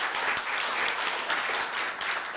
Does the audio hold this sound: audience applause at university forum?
yes